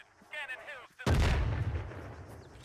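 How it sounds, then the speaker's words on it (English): A close mortar round from a video-game artillery position thumps in, a sudden loud boom after faint talk, then a long rumbling decay. "That mortar position is close enough for me to hear it."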